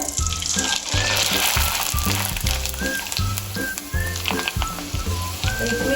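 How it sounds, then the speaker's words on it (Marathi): Papad frying in hot oil in a pan sends up a steady, close sizzle that runs throughout, with a rhythmic musical backing underneath. "आपलं तेल तापलेलं आहे तर आपण पापड तळून घेऊया"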